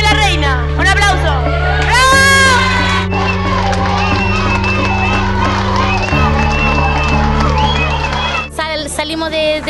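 A crowd at a prison event, gathered for a parade and the presentation of a queen, cheers, whoops and shouts over loud music with a booming bass line, the excited voices rising in bursts near and around.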